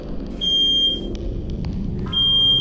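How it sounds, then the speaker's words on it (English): A shrill electronic alarm tone beeps in long bursts, sounding twice with a gap between, over a low rumbling background. "Just woke up to smoke alarm."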